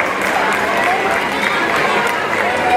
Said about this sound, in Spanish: La felicitamos y la premiamos con un fuerte aplauso por una buena temporada.